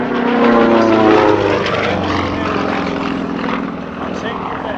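A Sukhoi Su-31 aerobatic propeller plane drones through air show maneuvers, its engine loud and steady with shifting pitch as it climbs and turns, and a voice talks over it.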